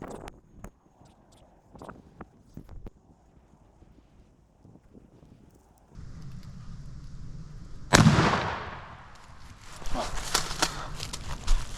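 A shotgun fires at a turkey during a Tennessee spring hunt, one loud outdoor blast that trails into a rumbling echo over wind noise and quiet rustling.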